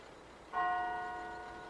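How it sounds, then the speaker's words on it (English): Bell in a video game, struck once and loud, ringing with a clear tone that slowly decays, heard alone. "Okay, nothing happens when the bell rings."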